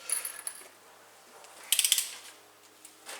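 A ratchet loosening a bolt on a car during a winter service covering turbo, gearbox and engine: short bursts of rapid metallic clicks close by, separated by quiet pauses, with no talking.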